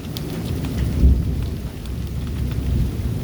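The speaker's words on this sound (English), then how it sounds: "We got a little bit of hail right now." Hail and heavy rain pelt down during a Central Texas storm as tornado clouds roll overhead, a steady dense clatter with a deep rumbling swell near the start, close and loud, with no voices.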